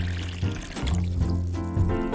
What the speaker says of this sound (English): Let me pour this into your glass for you